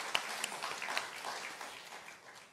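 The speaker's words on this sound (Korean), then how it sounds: "우리 은혜로운 찬양을 해주시는 갈릴리 성가대에 우리 격려하는 박수를 보냅니다" A church congregation at a Sunday worship service applauds the choir, a moderate spread of clapping with a few sharper claps standing out at the start, fading gradually.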